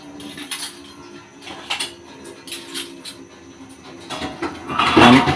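Turmeric, chili, cumin and coriander powders mixed in a metal pot, giving light clinks and scraping of a spoon against the pot, louder near the end.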